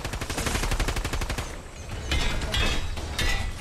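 Video game gunfire: a fast, steady stream of automatic shots, loud and close, that stops briefly and then returns in short bursts.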